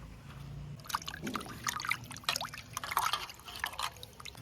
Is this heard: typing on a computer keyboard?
no